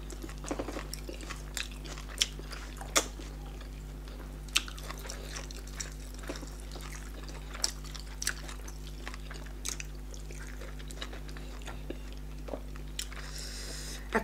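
Someone eats fufu with scent leaf pepper soup, making soft, close chewing and wet mouth sounds with scattered small clicks and slurps over a steady low hum.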